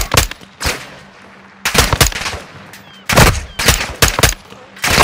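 Loud bursts of automatic gunfire in Call of Duty: Modern Warfare II as a missile is shot down, several sharp clustered volleys separated by brief quiet gaps.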